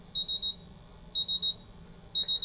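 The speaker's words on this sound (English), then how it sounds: "all the 4 sensors that are currently being bump tested are at least in a low alarm" A MultiRAE gas detector sounds its low alarm during a bump test. It gives three bursts of rapid, piercing high beeps, about four per burst, roughly once a second. The beeps are close and clear, with no talk.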